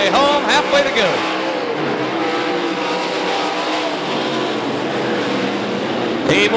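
Modified race cars roar around the dirt oval at Knoxville Raceway, engines rising and falling as they pass, with a track announcer calling the race over the continuous loud motor noise.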